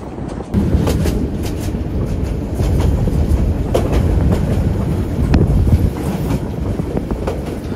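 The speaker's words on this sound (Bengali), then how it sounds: "এই মুহূর্তে আমাদের ট্রেন ঢাকামুখী হয়ে প্রবেশ করছে লাকসাম জংশনে" The Sagorika Express rolls into Laksam junction with a steady, close rumble and repeated clacking of wheels over rail joints, no voices, holding loud and even throughout.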